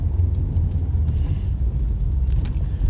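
Ford Focus SE hatchback creeping through stop-and-go traffic, heard from inside as a steady low engine and road rumble that stays constant and fairly loud, with faint rattles and no talking.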